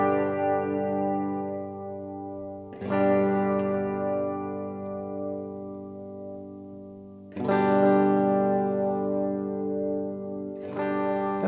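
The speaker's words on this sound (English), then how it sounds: "let's check out delay and reverb, because sometimes you just want both" A Phenyx Pro PTL-600 mixer with delay and reverb applied to a sustained music note, with three sharp re-attacks trailing off into long echoing tails.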